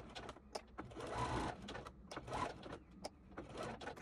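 Sewing machine running a zigzag stitch on small doll dress straps, quiet rapid mechanical whirring in short bursts and pauses, close and faint.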